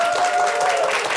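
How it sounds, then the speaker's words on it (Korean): Studio audience applauding on a Korean morning talk show, a short, dense burst of clapping from many hands. "박수 한번 부탁드릴게요."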